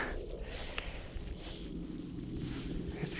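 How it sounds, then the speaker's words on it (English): Wind gusts steadily past a lakeside bank during a fly fishing outing, a continuous low rumbling buffet with soft broadband hiss and no voices. "this wind's picking up"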